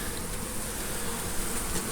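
A steady, dense buzzing of many honeybees during a hive removal, close and continuous, with no voices.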